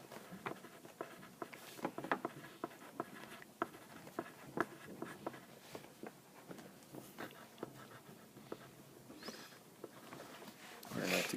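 Students writing answers into math books in a classroom: soft, rapid scratching and tapping of pencil strokes, close and continuous, with faint voices murmuring underneath.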